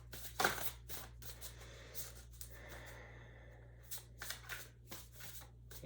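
Faint papery riffling and flicking of cards being shuffled in short bursts, close by, over a steady low electrical hum.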